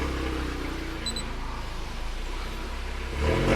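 A VW Golf MK7 engine starting: a steady low hum runs throughout, then swells louder near the end as the engine catches and idles.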